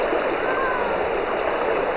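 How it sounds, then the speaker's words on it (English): River in a volcanic gorge in Sicily rushes steadily, a loud continuous wash of flowing water with no pauses, heard up close. "let's have a look up at the river"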